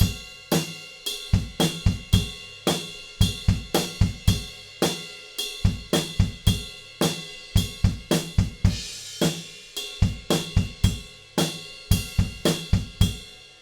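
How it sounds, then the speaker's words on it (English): A steady drum groove played on the bell of a ride cymbal, with bright ringing bell strikes over punchy kick and snare hits in a tight repeating rock pattern, loud and alone, from a song's guitar-solo section. "we move over to the bell of the ride cymbal, and we play a groove that sounds like this."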